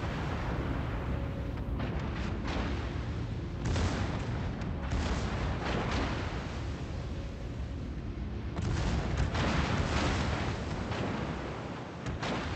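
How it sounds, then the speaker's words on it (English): Heavy naval guns boom in repeated broadside volleys during a warship video game battle, a dense rumbling barrage with bursts near 0, 4 and 9 seconds, loud and continuous, with no talk. "Got some broadside shots on that guy."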